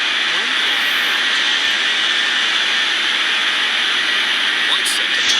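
A jet airliner roaring on takeoff in an air traffic controller game: a loud, steady engine whine and broadband rush held throughout, with a voice faintly audible underneath.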